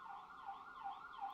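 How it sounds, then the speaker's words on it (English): An emergency vehicle siren wails in a steady rising and falling cycle, faint and distant outdoors, with no speech over it. "Sorry about the sirens, guys."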